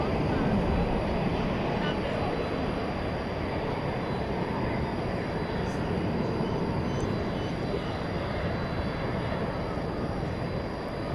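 Airbus A319 jet at DFW Airport at night, a steady broadband engine roar held at even loudness throughout, distant and continuous with a faint high whine on top.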